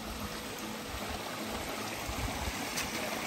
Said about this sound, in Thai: มีน้ำตกด้วย